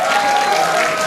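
Brief burst of audience clapping for high school students after their presentations at a school Ignite event, a dense wash of hands with a faint voice mixed in.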